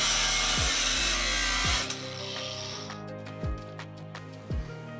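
An angle grinder cuts through a metal IKEA Milsbo cabinet piece, a loud steady whine lasting almost two seconds before it winds down, followed by a few short, sharp bursts of cutting.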